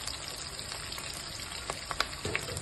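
Chopped onion and green chillies fry in a pan for a spicy mutton head curry, giving a steady close hiss and sizzle with a few soft clinks and stirring taps toward the end.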